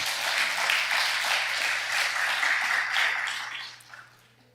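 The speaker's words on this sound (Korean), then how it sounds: "우리 박수로 환영하도록 하겠습니다." Warm applause from a church congregation welcoming a guest at a pastors' choir launch ceremony, broad sustained clapping that holds steady and then fades away near the end.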